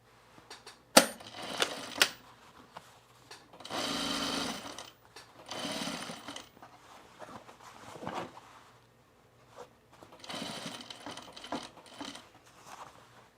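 A sewing machine stitches a dart on men's cargo shorts, running in several short mechanical bursts separated by pauses, close and moderately loud with no talking.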